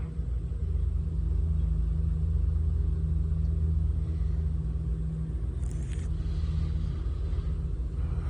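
Steady low propeller-aircraft engine drone in Microsoft Flight Simulator during a rainy VFR flight, a constant loud rumble holding evenly throughout, with a brief faint click partway through.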